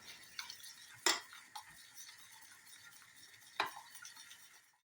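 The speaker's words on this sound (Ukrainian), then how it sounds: "додаю желатин і розмішую до повного розчинення желатину" A spoon stirs gelatin glaze in a saucepan for Easter mini paska muffins, with quiet scraping and two sharp metallic clinks against the pan over a soft background.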